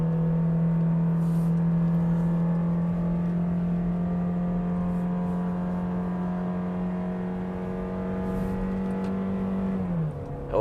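A Toyota Innova seven-seater MPV climbs a mountain road in third gear at full throttle, its engine droning loud and steady at high revs with a strong sustained tone that dips slightly before easing off at the very end.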